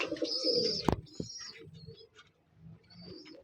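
Pakistani kamakar pigeons cooing in a loft, soft low throaty coos repeating in short phrases with a few higher chirps and a sharp click, close and fairly quiet.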